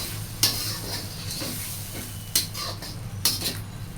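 Shrimp stir-fry in a pan under a soft, continuous sizzle, broken by three sharp scraping clacks of a utensil against the pan at roughly one-second intervals.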